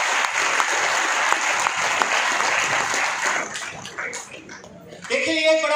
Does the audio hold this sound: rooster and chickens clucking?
no